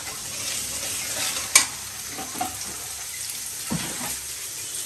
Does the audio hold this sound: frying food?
yes